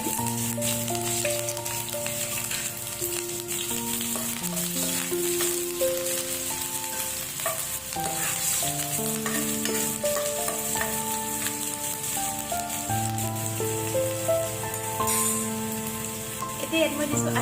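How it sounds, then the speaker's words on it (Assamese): Onions stirred into hot oil on a lowered gas flame for baingan bharta, giving a continuous close sizzle with a rattling stir, backed by sustained tonal music. "গেছটো কমাই দি এতিয়া মই দিম পিঁয়াজ, পিঁয়াজখিনি দি মই ভালদৰে লৰাই দিম।"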